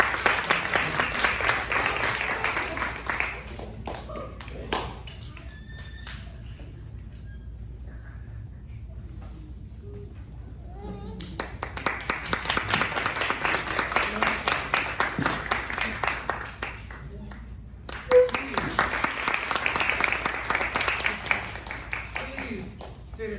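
An audience at a Christmas Carol puppet show applauds in waves of dense clapping, fading to a lull before swelling again twice, with voices heard in the quieter gap.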